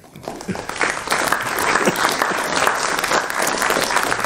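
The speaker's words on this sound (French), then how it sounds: "on peut l'applaudir" An audience applauds to welcome a guest speaker at an evening lecture, starting softer and swelling into a full, dense, sustained clatter of many hands.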